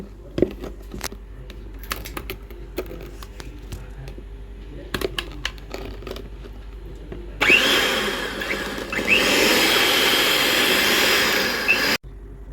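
Oil and milk for a cake batter being whisked with an electric mixer, a steady whirring drone that starts after a few scattered clicks and knocks and runs for about five seconds before cutting off sharply.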